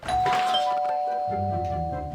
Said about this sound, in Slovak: to bol zvonček?